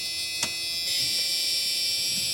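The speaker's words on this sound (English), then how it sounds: "You just gotta love that old Ford 80s buzzer, don't you?" An old 1984 Ford 6.9 diesel truck's glow plug buzzer sounds as the plugs cycle before a cold morning start, a steady high-pitched electronic tone holding for about two seconds after a brief click.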